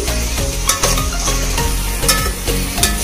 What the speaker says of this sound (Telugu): టమాటా ముక్కలన్నీ కూడా సాఫ్ట్గా అయినంత వరకు దీన్ని కుక్ చేసుకోవాలి